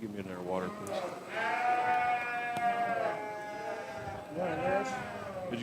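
Sheep bleat repeatedly at a 4-H sheep show, several long wavering calls close by against a steady murmur of a crowd and faint speech.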